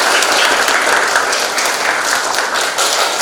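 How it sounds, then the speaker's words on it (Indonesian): Steady applause from a classroom full of students, dense and even clapping that fills the room at close range for a few seconds with no voices over it. "Ya, masih tepuk tangan."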